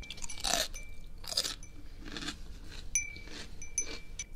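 Close-up crunching as crisp cucumber is bitten and chewed, several loud crunchy bites with short pauses between them and no talking.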